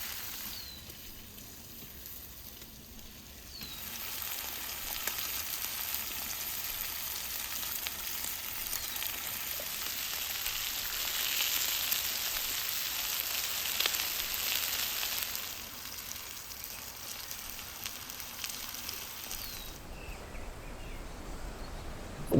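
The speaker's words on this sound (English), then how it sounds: "We added some garlic oil on top of our tongue and now wait a bit more until our meat is fully cooked." Beef tongue with garlic oil fries in a pan outdoors in the mountains, giving a steady broad sizzle that swells slightly midway and continues without voices.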